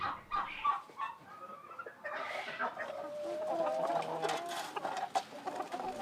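Improved-breed chickens cluck nearby in short, repeated calls, with some squawking and soft rustling at moderate loudness and no clear talk.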